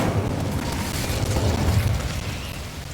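A fire spell cast in Hogwarts Legacy, heard as a sustained low booming, roaring burst of flame that swells steadily for about three seconds, loud and close, with no talking over it.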